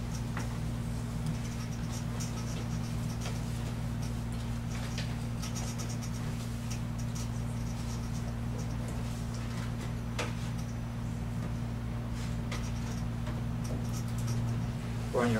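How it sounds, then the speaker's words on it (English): Someone writing on paper in a classroom setting, soft scratching and tapping strokes heard faintly against a steady low hum of room noise. "could you just go ahead and write those down on the paper right now?"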